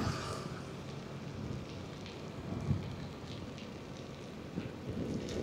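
Steady rain hisses during a motorcycle journey, a dense, even wash of noise with faint low rumble throughout and no talk.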